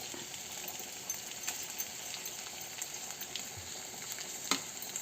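Asafoetida dropped into hot ghee in a pan for kara pongal, crackling in a continuous, fairly quiet sizzle with a few sharp pops and ticks scattered through it.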